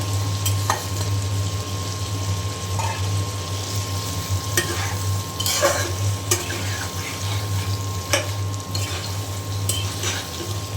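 Ginger and garlic paste frying in a pot for tehari, a continuous oily sizzle with a low steady hum underneath and a few sharp clinks of a spoon against the pot.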